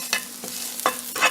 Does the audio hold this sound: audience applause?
no